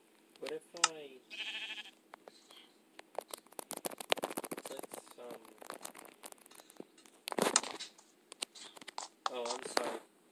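A sheep in Minecraft bleats in a few short wavering calls, interspersed with clicks, footsteps and game noises, while a person talks over the gameplay.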